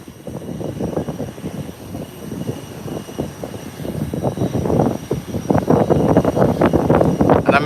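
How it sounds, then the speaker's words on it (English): An American airliner taxies on the runway toward the threshold of runway 10 at Howard Hamilton International Airport, its jet engines a steady, building roar that grows louder and nearer over several seconds with no talk. "An American airline is on the runway"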